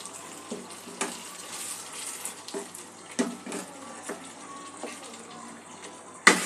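Water poured into a pan of chicken masala sets off a broad hiss and bubbling sizzle, steady and close, with a few louder splashes and a sharp clatter at the end.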